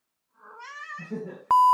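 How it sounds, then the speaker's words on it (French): A cat gives a single short, rising-then-falling meow close by, followed at once by a loud electronic beep. "Raccoon, pourquoi tu miaules pile quand je parle?"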